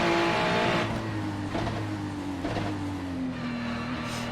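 A Ferrari GT3 race car at Circuit de Ledenon, heard onboard as a loud, sustained engine drone whose pitch climbs and drops with gear changes.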